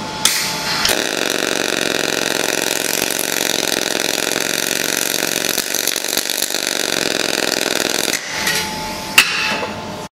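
Short welds on thin-wall aluminum handrail tubing: a steady, loud buzzing arc hisses for about eight seconds, then stops, followed by a brief second burst.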